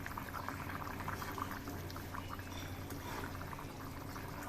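Fish curry broth with taro, potato and pointed gourd bubbling at a steady boil, a continuous close simmering hiss and gurgle with no voices.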